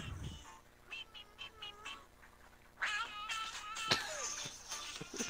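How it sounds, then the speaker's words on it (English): A cat meows several times during a Halo 5 Guardians multiplayer session: short, soft, rising cries, then a louder run of meows, fairly faint and set against quiet background noise. "so there's a cat doing something"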